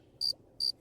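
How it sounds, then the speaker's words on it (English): A cricket chirping sound effect gives two short, thin, high chirps with an even gap between them. It is fairly faint over a quiet, low background. "it's crickets."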